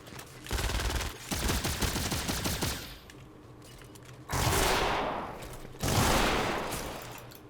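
Fortnite shotgun blasts: a rapid burst of sharp shots early on, then two separate loud booming blasts with decaying tails, close and dominant with little else around.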